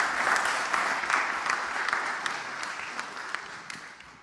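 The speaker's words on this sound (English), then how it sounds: "Please join me with a round of applause for Mark." Audience applause after a speaker at a panel session, a steady wash of many clapping hands that gradually thins and fades over about four seconds.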